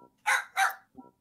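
A dog barks twice in quick, loud, close succession, then lets out a short softer yip.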